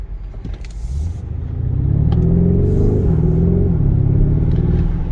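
A Lamborghini Urus SUV's powerful engine builds from a low idle into a loud, rising roar as it accelerates, with gear changes shifting the pitch.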